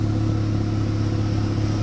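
Audi A1 S-line hatchback running a detuned Golf GTI engine at 147 kW: a steady, close, mid-pitched engine hum with a strong low drone, idling or cruising evenly without talk.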